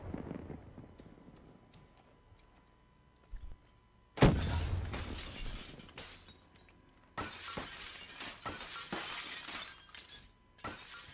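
Glass shattering in a competitive shooter video game: a sharp, loud crash of breaking panes, followed by several more bursts of smashing glass and scattered debris in quick succession.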